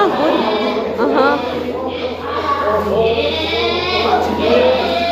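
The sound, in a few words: students imitating sheep bleating in a Burning Bush play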